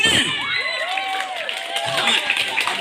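A crowd at a Maulid Nabi religious lecture in a village study hall cheers and claps, with children's raised voices mixed in, forming a steady, lively burst of noise for a few seconds.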